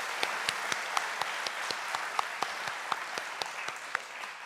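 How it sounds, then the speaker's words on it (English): Sustained applause from a crowd at a FIRST Robotics Competition kickoff ceremony in Atlanta, dense clapping with a few sharper claps standing out, steady throughout. "please give yourself a huge round of applause"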